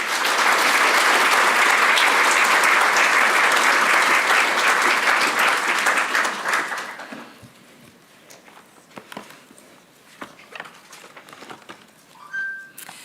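Audience applause welcoming author Susannah Fullerton to an evening talk on great writers and their cats: loud, dense clapping for about seven seconds, then it fades to a few scattered claps and quiet room noise.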